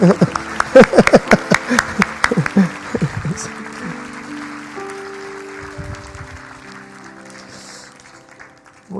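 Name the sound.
congregation applause for two church elders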